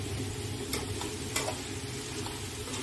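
Pav bhaji vegetables with garam masala and kasuri methi sizzle and fry in a pan while being stirred, a steady close hiss with a couple of brief scraping strokes and no talk.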